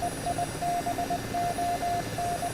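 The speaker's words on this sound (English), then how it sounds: "I want to go to compass, where I now hear a beep" Compass radio signal in the DCS flight simulator game, heard as a steady run of short, evenly spaced electronic beeps at one pitch, clear and alone with no talking.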